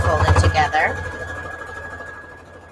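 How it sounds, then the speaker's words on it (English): A sewing machine runs a straight stitch joining two scrap fabric pieces for a quilt, giving a close, rapid mechanical whirring that pulses briefly and then settles into a steadier hum before fading slightly. "that's why I'm not showing you exactly what's going on with my sewing machine"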